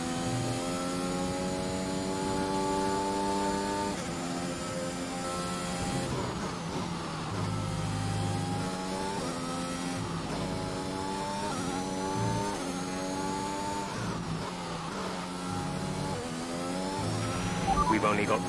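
Williams Formula 1 car at Spa accelerating on a hot lap, engine note rising through successive gears in sweeping harmonic climbs, with commentary voices running over it throughout.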